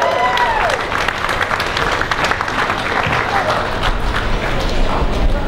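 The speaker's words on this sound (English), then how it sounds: "Give me a hand of applause" Crowd applause welcoming a guest named Peter Everitt on stage, a dense sustained clapping from many people with faint voices and a few whoops mixed in.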